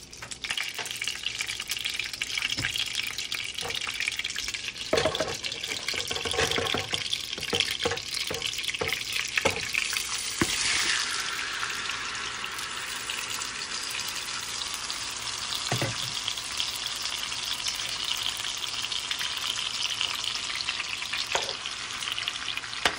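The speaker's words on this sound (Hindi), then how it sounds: "अभी मैं प्रान्स को स्टर फ्राई कर लूँगी।" Prawns stir-frying in oil and butter in a home kitchen pan, a steady loud sizzle with crackling spikes and occasional stirring clatter throughout, no talking.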